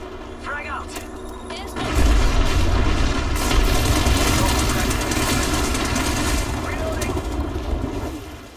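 A frag grenade goes off in a shooter video game, a loud, close blast with a deep rumbling tail that lasts several seconds, after a few brief sounds before it.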